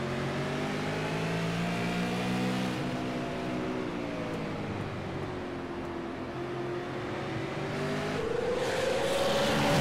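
Race cars in the SARA Pierce Fleet Supers series roar past on a racetrack, a loud sustained engine drone with pitch shifting as the field goes by, rising again at the end.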